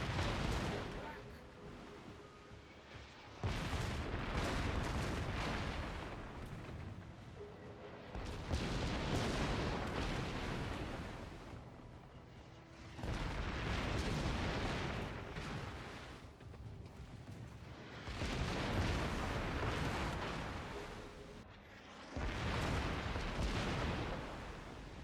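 Warship artillery in World of Warships booms in heavy, long salvos, five or six thunderous broadside bursts rolling out at close range and separated by brief quieter gaps, with faint voices underneath.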